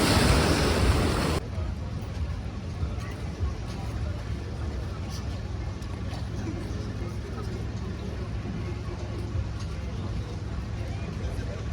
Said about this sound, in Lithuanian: prie jūros gan vėjuota